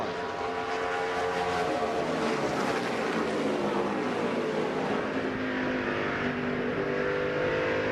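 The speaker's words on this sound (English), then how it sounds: "These cars streaming down that front straightaway underneath the lights with all the fans watching." NASCAR Busch Series race cars stream down the front straightaway under the lights at the Silver Celebration 250, a dense, continuous engine roar with crowd wash, loud and unbroken.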